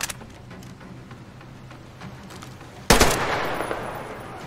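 Gunfire in the game Sam's Story: faint scattered shots early on, then a sudden loud, sharp blast of fire near the three-second mark with a noisy, crackling tail.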